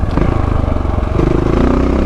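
KTM 690 Enduro single-cylinder thumper engine on slippery single track, a loud, close, steady low-pitched chug that thickens and rises slightly in revs partway through.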